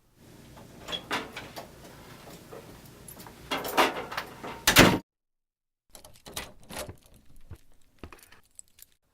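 Foley effects: rattling and jangling like keys, with clunks of a door or drawer, several close bursts, then a pause and softer handling sounds.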